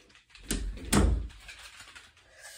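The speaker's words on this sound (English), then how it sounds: "Oh, close my door." A bedroom door is pushed shut close by, giving two quick knocking thumps about half a second apart against a quiet room.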